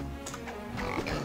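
A cartoon pig in the video game Rayman Adventures, played on Android, gives a few short grunting oinks over steady game music.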